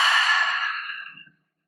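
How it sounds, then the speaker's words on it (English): A deep breath let out during a slow yoga flow on a vibration plate, one long breathy exhale that starts strong and fades away over about a second, close and alone. "then you can exhale through the nose or the mouth"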